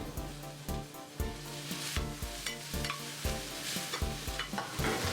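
Corn is stirred into a frying seasoned mixture in a pan, making a regular rhythm of scraping strokes roughly every half second over a constant soft sizzle, close by and free of speech.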